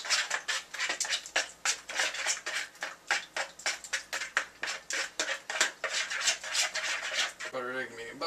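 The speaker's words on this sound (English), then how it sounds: "Now I guess we stir all this up." A spoon stirs egg and cookie mix in a bowl with rhythmic scraping, steady and close, about three strokes a second, ending in a brief clatter.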